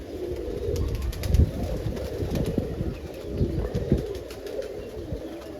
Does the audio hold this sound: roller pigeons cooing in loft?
yes